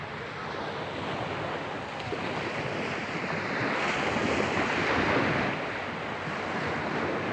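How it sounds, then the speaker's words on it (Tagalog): Steady rush of surf washing onto a shore, broad and continuous, swelling slightly in the middle, with wind noise over the microphone. "Dahil hindi naman gaano malakas yung alon."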